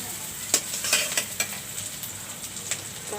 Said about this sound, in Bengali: আমি কড়াই বসাই দিয়েছি এবং পেঁয়াজ সরিষার তেল দিয়েছি।